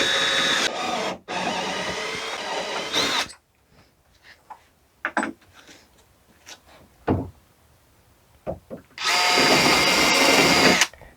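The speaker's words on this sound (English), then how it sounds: "So now I just need to drill through for these top holes." Power drill with a 5/16 inch bit drilling through the top holes of a small wooden dinghy, two loud close bursts of whining motor separated by quiet taps and handling, ending with one more sustained burst.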